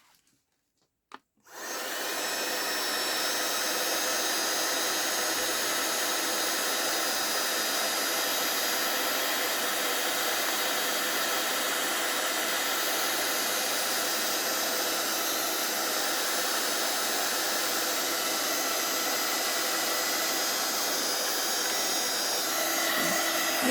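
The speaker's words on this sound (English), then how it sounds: "So now I'm going to try and heat emboss all this." A heat gun switches on after a brief silence for heat embossing on acetate, then holds a steady, loud whooshing blower roar that continues unbroken.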